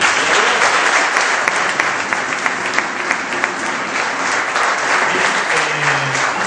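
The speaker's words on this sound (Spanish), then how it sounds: "Damos un aplauso al Señor." Sustained applause from a sizable church congregation, steady and dense throughout with no pauses.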